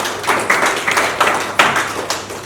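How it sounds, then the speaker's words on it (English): Audience at a clean energy finance and investment training gives a round of applause, a short spell of scattered, fairly close hand claps without talk. "This is a round of applause."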